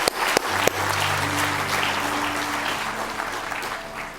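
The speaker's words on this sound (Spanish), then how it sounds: "damos unas palmas más fuertes en el nombre del Señor" A church congregation claps loudly and steadily together, bright dense clapping with a few sharper accents at the start and a faint sustained tone underneath.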